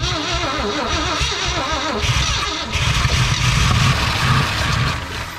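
An abandoned 1968 Ford F100 Ranger engine cranks and catches on its first start in 25 years, then a loud rough burst with a blown-out exhaust rattle follows, harsh and close.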